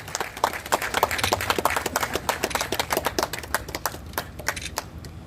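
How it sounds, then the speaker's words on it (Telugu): An audience at a CCTV camera inauguration event breaks into brisk, steady applause, many hands clapping together close by, and the clapping thins out near the end. "ఒకసారి గట్టిగా చప్పట్లతో"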